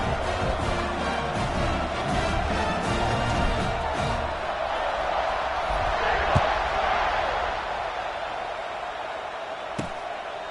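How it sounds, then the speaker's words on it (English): A large stadium crowd buzzes at a college football game between Auburn and South Carolina, a steady dense roar of voices filling the space and easing slightly toward the end, with a couple of sharp knocks. "this crowd is buzzing after that last score"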